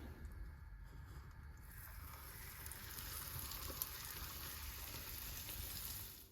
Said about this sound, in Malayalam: ഞാൻ വെളിച്ചെണ്ണയിലാട്ടോ ഫ്രൈ ചെയ്യുന്നത്